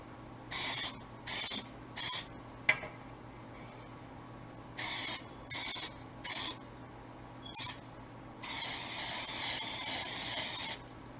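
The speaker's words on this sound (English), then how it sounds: "So just give it a good spray on all the edges." Short hissing bursts of an aerosol cooking spray on the edges of a cake pan, several quick sprays in a row, then one longer continuous spray, close by.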